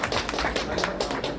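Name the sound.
audience applause at a film trailer launch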